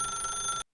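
A telephone rings inside the video game The Stanley Parable, a single short electronic bell burst that is steady, close and clear, then cuts off abruptly.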